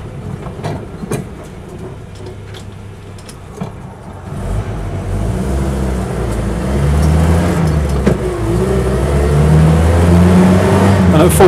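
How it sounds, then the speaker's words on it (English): A Land Rover Lightweight with drum brakes accelerating at full throttle, engine drone rising steadily in pitch and loudness under cabin noise and wind, with someone talking briefly at the start. "And at full throttle here, it picks up and goes very well indeed."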